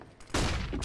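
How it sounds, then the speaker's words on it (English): A flashbang grenade goes off in Counter-Strike with a sudden loud, harsh burst that lasts to the end of the clip, after a brief quieter lead-in. "Flashbang"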